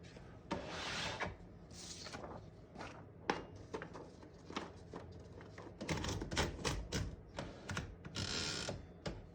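Typing on a vintage Remington Model 5 portable typewriter: rapid, irregular clacking keystrokes with mechanical clicks and occasional heavier strikes, close and fairly loud, running steadily with no talking.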